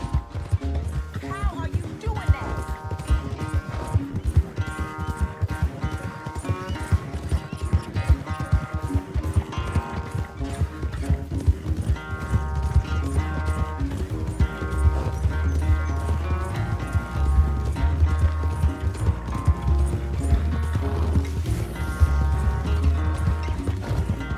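Horse hoofbeats from a galloping horse in the video game Red Dead Redemption 2, a steady clip-clop rhythm running throughout under game music and mechanical effects, with a player talking over it at times.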